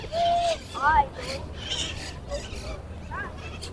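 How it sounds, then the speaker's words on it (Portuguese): A flock of maritaca parrots squawks overhead in scattered harsh calls, moderately near, with faint background hiss and a soft voice in between. "Um monte de maritaca."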